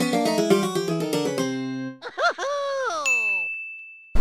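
A notification bell sound effect plays: a quick run of bright chiming tones, then sliding pitched electronic notes and a single sustained high ding that rings out before cutting off, with no talking.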